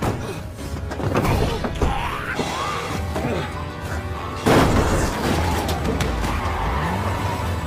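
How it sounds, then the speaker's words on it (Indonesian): A car tears away from a zombie attack, a stalled car now getting going, with tires skidding, thuds and a loud impact partway through, engine noise and commotion layered underneath. "Hibiki pun kabur dengan menggunakan mobil yang sempat mogok."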